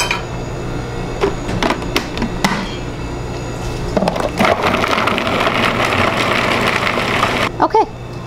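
Food processor chopping leftover vegetable pieces for raw pad thai, with scattered clatter and taps that give way to a loud steady whirring blade run, then a sudden stop.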